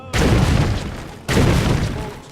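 Bomb explosion: two heavy, booming blasts about a second apart, each loud and sudden with a rumbling, crackling tail.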